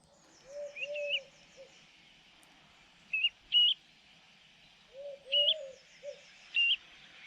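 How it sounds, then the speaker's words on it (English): A ringed plover calls in short bursts of soft, fluty piping whistles, repeated several times with brief pauses, clear against a quiet background. "So this is the ringed plover call."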